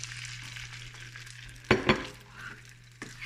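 Eggs and kale fry in a pan, a steady soft sizzle with a couple of sharp scraping stirs and clinks of a utensil against the pan, close by and with no talking.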